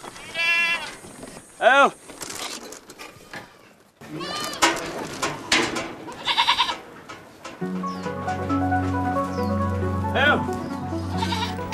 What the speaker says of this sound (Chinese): 有400多只，都是我们本地的山羊来的。